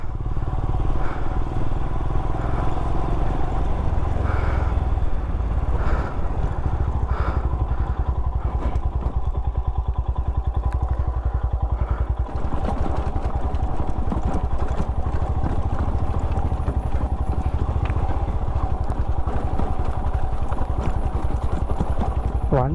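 Motorcycle riding along a mountain road toward Munnar, a steady loud engine drone with constant wind rumble running throughout, no pauses.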